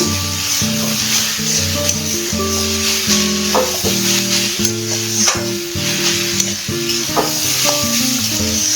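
Komli and pumpkin greens sizzle in a pan as they are stirred and turned, a bright continuous frying hiss over a low tonal hum, with scattered spatula scrapes and taps throughout.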